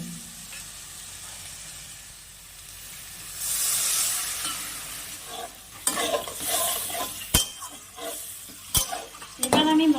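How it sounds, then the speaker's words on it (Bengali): Spice masala for a Bengali bele fish jhal frying in a pan, with a hissing sizzle and repeated scraping stirs and utensil knocks growing busier toward the end. "এবার আমি মশলাটাকে ভালো করে কষিয়ে নেব সামান্য একটু জল দিব"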